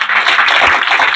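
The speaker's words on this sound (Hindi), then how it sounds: "इसके लिए तालियां होने चाहिए सर के लिए" Students applaud their maths teacher indoors in a short, loud, dense burst of clapping.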